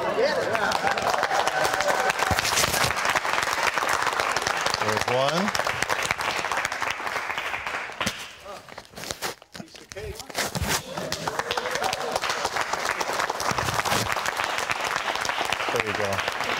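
A studio audience at a 700 Club interview with a WWE/UFC veteran breaks into sustained, dense applause, briefly dipping midway then swelling again, with a voice talking over it.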